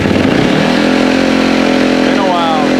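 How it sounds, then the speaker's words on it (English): A 2024 KTM SX-F dirt bike engine runs loud and close throughout, a steady rough buzzing idle with rising and falling pitch near the end, as if briefly revved, with no one speaking over it. "All right, so start the bike."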